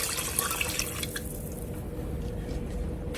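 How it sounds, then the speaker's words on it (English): A liquid mixture is poured slowly into a pot of creamy broccoli cheddar potato soup, giving a soft, steady trickling and dripping over faint background hum. "Make sure you slowly pour everything in so that it won't just splatter everywhere."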